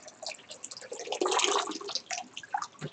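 Warm water runs from a tap in a pottery workshop, an uneven close splashing trickle that swells in the middle and then breaks into scattered spatters.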